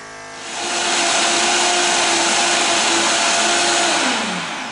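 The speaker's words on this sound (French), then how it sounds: "on va mixer notre smoothie" A countertop blender mixes a smoothie for liver health, a loud steady motor whir with a falling pitch near the end as it winds down, heard alone without talk.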